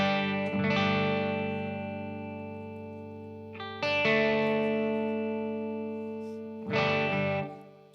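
Clean, dry electric guitar chords through a Strymon Iridium amp modeler ring out three times, each strummed and left to sustain and slowly fade, with no talking.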